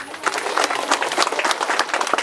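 An audience at a Teej festival program breaks into dense, sustained clapping that stays loud and close, with many hands overlapping for the whole stretch.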